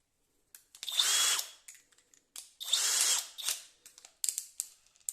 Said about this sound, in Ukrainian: Будемо закручувати на механічній коробці у нас буде перша швидкість, а на електронній у нас буде третя швидкість.